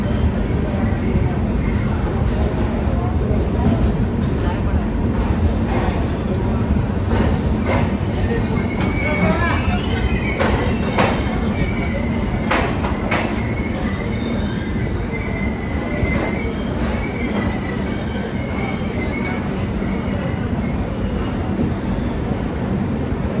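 The Devagiri Express rolls into Hazur Sahib Nanded railway station, a loud continuous rumble of wheels on rails with repeated squeals and clacks as the carriages pass, and some talk faintly beneath.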